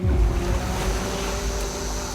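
Ocean waves at sea, a rolling wash of water with low rumbling surges and wind buffeting the microphone, fairly loud and continuous without speech.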